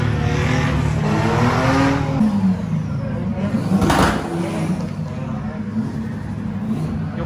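A drift car engine revs hard on a drift track, a loud continuous roar with rising and falling pitch and a sharp burst in the middle, close by and filling the whole stretch.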